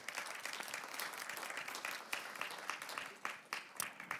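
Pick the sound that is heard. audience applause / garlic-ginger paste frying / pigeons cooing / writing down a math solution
audience applause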